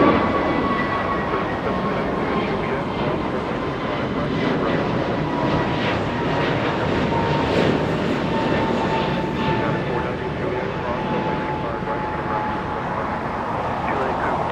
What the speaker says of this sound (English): Okay, you have Asiana taking off.